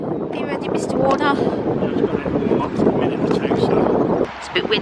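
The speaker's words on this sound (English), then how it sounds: "It's a bit windy out here this morning." Wind buffets the microphone beside the Grand Union Canal, a constant low roar and rumble that runs throughout while a person talks over it.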